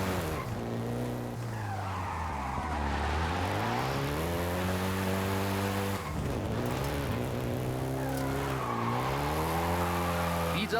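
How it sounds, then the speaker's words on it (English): Volkswagen Golf GTI engine in Forza Horizon 5 revving steadily in Mexico, pitch climbing and falling through gear changes with tire skids, loud and continuous throughout. "including the Golf GTI you're driving right now"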